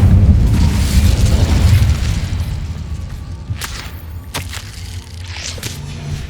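In Hogwarts Legacy, an Incendio fire spell bursts with a loud, close boom that rumbles and slowly fades, followed by a few sharp clicks and thuds.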